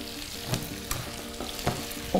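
Mushrooms fry in butter in a pan for beef stroganoff, a steady soft sizzle broken by a few sharp stirring clicks and scrapes, close and with no talking.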